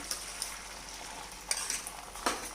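Beaten eggs sizzle on a buttered dosa tawa with a soft, steady fry close by, broken by a few sharp clinks of a utensil against the pan.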